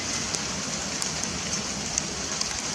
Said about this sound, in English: you know and I know that this is hail, right?